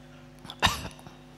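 A single short, sharp cough bursts out in an otherwise quiet room.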